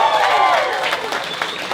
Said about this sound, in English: you guys didn't have to clap